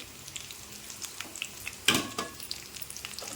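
Small onions sautéing in hot oil in a home kitchen while a root-vegetable curry is made, giving a soft steady sizzle with one sharper burst of spattering partway through.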